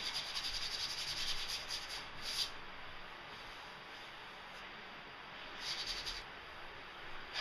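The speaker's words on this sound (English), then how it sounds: "I got a fine sanding sponge here, and I'm just gonna lightly go over it, dry sanded" A fine sanding sponge is rubbed dry over painted paint runs, giving a faint, steady hiss with a few slightly stronger strokes and no talk.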